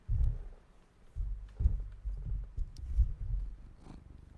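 A cat purrs close by, a low rumbling pulse rising and falling in steady rhythm, soft but continuous.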